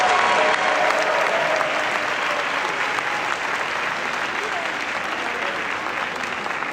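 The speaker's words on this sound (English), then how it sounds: "He deserves a bigger round of applause." Steady, dense applause from a lecture audience at Howard University in Washington, D.C., continuing at an even, loud level throughout without breaks.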